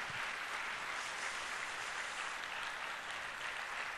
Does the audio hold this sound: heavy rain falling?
no